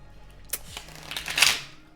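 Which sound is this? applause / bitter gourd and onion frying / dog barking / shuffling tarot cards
shuffling tarot cards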